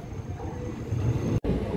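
Tirupati Express No. 17261 pulls out of platform 2 at Guntur Junction, a steady low rumble and rolling rail noise heard from inside, with a brief dropout near the end.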